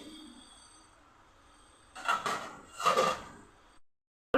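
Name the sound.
lid being lifted off a cooking pot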